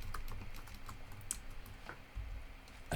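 Steady clicking of keys on a computer keyboard, close and fairly quiet, with irregular bursts of presses and brief pauses and no talk over it.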